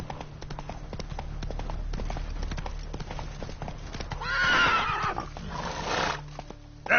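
Roach the horse in The Witcher 3 trots with steady clip-clop hoofbeats, then lets out a loud whinnying neigh near the end, with no speech.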